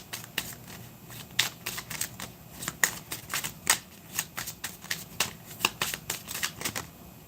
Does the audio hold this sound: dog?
no